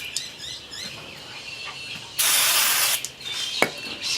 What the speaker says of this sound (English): Give it a bit of a brake clean.